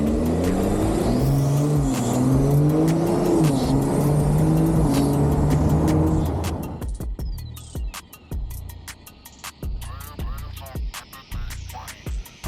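BMW 118i fitted with a B58 engine, a loud engine droning and revving for several seconds, then cutting off into sharp clicks and knocks.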